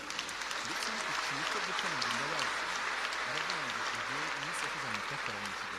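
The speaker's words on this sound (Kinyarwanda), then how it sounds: "amashyi menshi kuri we." A church congregation claps at the close of a sermon: dense, continuous applause throughout, with voices and a tuneful, sung or musical tone running beneath it.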